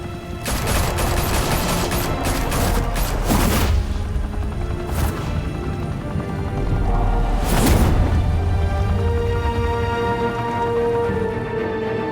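Gunfire in Batman: The Telltale Series, a dense fusillade of rapid shots in the first seconds with heavy booms around 3.5 and 7.5 seconds, over a constant loud rumbling game backdrop.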